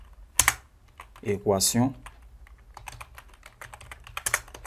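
Clicking keys on a computer keyboard while code for a quadratic-equation algorithm is written, a close run of crisp, irregular taps with a short stretch of spoken French partway through.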